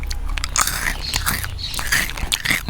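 Someone bites and chews a crispy puffed corn-like snack, freeze-dried and colourful, close to the ear, with repeated sharp crunches and crackles in an uneven rhythm and no talking.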